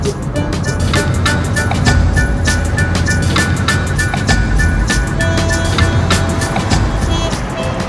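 A car driving along a road, loud continuous tyre rumble and road noise with rattling bumps and clicks inside the cabin, steady throughout.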